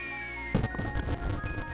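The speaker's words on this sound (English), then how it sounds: "If you bought one, you're going to get a mushroom-shaped firework." A mushroom-shaped firework from the video game Super Mario RPG bursts with a sudden crackling pop over a steady synthesized game tone, followed by a short fizzling crackle.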